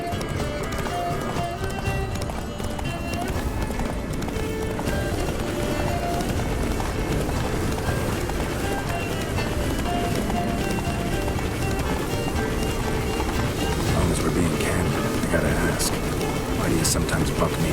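Geralt's horse Roach gallops steadily in The Witcher 3: Blood and Wine, rapid hoof clip-clops running continuously under dense game noise, voices and music.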